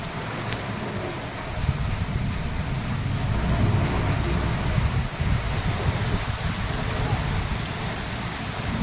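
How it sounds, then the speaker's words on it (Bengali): Steady pattering rain falling in a Sundarban village, a dense, continuous wash of drops on surfaces, fairly loud and close, with faint wind noise underneath. "হঠাৎ টাপুর টুপুর বৃষ্টি শুরু হলো"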